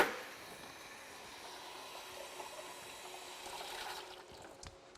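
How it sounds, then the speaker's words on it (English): Water running from a tap to rinse metal cocktail shaker tins, a steady close splashing stream that swells slightly before stopping near the end, with no talk. "I'm going to give my tins a rinse."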